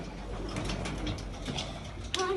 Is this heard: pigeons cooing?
yes